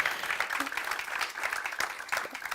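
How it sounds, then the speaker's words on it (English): Conference audience applauds the speakers on a forum stage, a dense steady wash of clapping throughout the short stretch. "please join me in applauding the speakers for sharing their time and expertise with us"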